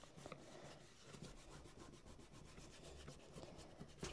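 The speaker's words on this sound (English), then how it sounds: "rub with your fingers, make sure that the glue settles all in there." Fingertips rubbing and pressing on a glued paper gift box, a quiet steady scratchy friction with brief soft taps, close by and with no voices.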